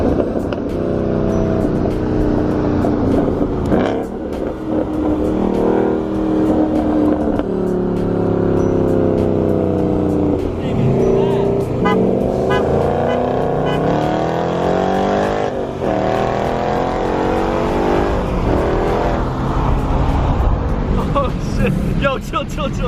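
A 2018 Ford Mustang GT accelerates hard, its V8 climbing through rising revs with repeated gear-change sweeps, loud and close from inside or beside the car, mixed with occasional voices.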